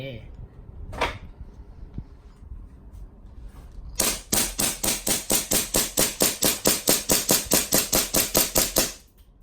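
Custom AW HX2301 gas airsoft pistol fired in a fast string of about twenty sharp, evenly spaced cracks, preceded by a single shot and quiet handling noises, close and loud.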